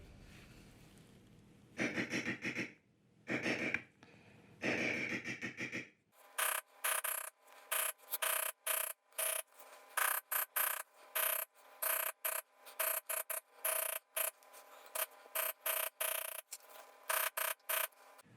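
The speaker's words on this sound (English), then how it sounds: "I went through and beveled that with a traditional checkered beveler" Tooled leather beveled with a checkered beveler, first a few longer rubbing strokes, then a long series of crisp, evenly spaced tapping strikes, close and alone.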